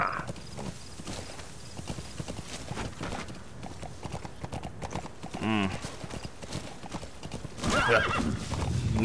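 A horse gallops with rapid clip-clop hoofbeats and gives a neigh near the end in the video game Metal Gear Solid V: The Phantom Pain, with game sound and a voice speaking over the action.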